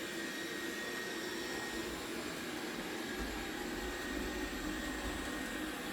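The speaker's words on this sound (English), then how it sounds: "So I think that's what it's doing right now, vacuuming the floor after it did the carpet." Robot vacuum cleaner running across a bare floor after cleaning the carpet, giving a steady, fairly loud whirring drone that stays even throughout.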